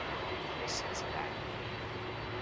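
Jet airliner with CF6 engines at Heathrow, a steady loud engine roar with a low hum, near and sustained, with brief voices over it.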